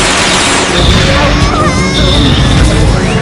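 A catastrophe cannon fires in a video game, a loud, dense crashing blast of broadband noise with whistling tones sweeping through it for the whole clip.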